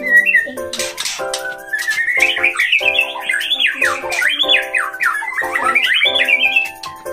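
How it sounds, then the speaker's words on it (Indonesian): An oriental magpie-robin sings loud and close, a run of bright whistled phrases and squawky notes repeated in bursts, heard alone with no talk. "ini adalah burung murai."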